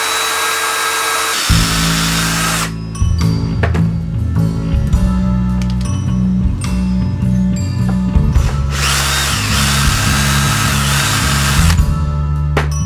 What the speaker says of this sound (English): and then drill away